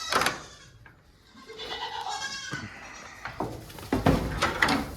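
Goats bleating in a barn, several loud close calls amid shuffling and clatter, with a brief voice partway through.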